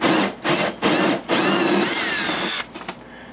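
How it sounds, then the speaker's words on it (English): A hole saw on a drill bites into styrofoam in loud buzzing bursts: three short cuts with brief pauses, then one long sustained grind that stops and trails off into faint rattling. "That's why I like this hole saw so much."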